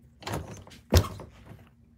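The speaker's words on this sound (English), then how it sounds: "I can't open my door." A car door being struggled with backstage at an event in Napa Valley: a soft rattle, then a single loud close thunk, with faint handling noise after, no speech.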